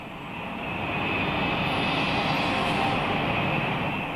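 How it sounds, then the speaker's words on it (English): Japanese World War II warplanes in flight from bases in Formosa toward the Philippines, giving a steady, loud, broadband engine drone that swells slightly and holds evenly throughout, with no voices. "From their bases in Formosa, Japanese planes head for the Philippines."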